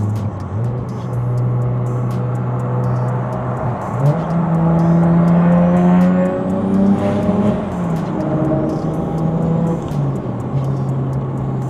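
A turbocharged BMW 335 engine drones steadily, then rises in pitch as it accelerates hard at wide open throttle from 3,000 to 5,000 RPM, with a whooshing single-turbo note and road noise, no talking.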